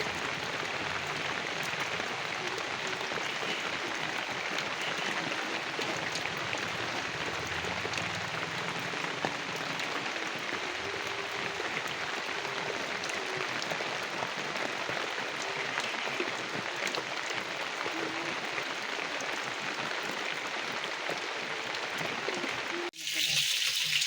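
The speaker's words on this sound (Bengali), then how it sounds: "বাইরে হচ্ছে এরকম কুলকুল করে বৃষ্টি।" Rain falling outside a village home during the monsoon, a dense continuous patter and hiss that stays even throughout, ending with a sudden louder burst.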